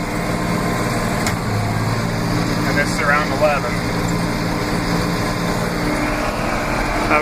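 Tractor with a TM 1400 mower mowing at high speed, roughly 11 to 13 mph: a constant close engine drone with a high whine runs throughout while someone speaks briefly over it.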